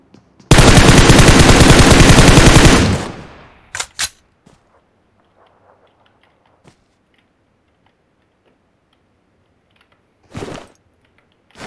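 In the mobile shooter game PUBG Mobile, a loud burst of automatic gunfire rattles for about two seconds, followed by a few isolated shots and clicks spread over mostly quiet stretches.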